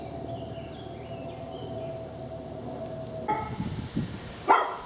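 Dogs at a dog's home passed on a rural walk bark a few times from a distance after a stretch of quiet outdoor ambience with a faint steady tone.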